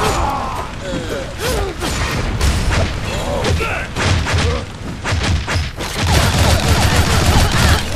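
Bombs go off in the action video game Shank 2 as a dense, loud run of booms and crashes mixed with gunfire and game effects, with a voice talking over parts of it.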